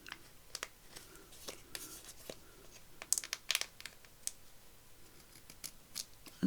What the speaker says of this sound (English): I'm just going to take my scissors